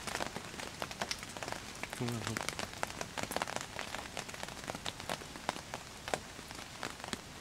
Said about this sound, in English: I don't know if you can hear that, but it's still raining.